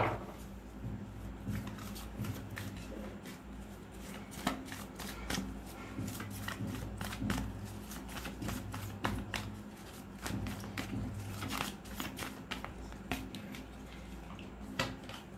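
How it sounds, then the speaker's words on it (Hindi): Tarot cards shuffled by hand up close, a steady run of quiet papery riffles and flicks with no pauses, no talking. "तो शफल करना शुरू करते हैं।"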